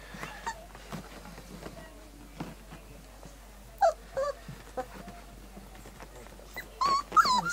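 Malamute puppies, part of a litter of eight, give brief high whimpers and squeaks scattered through the clip, a few louder cries near the end, heard close up over soft rustling indoors.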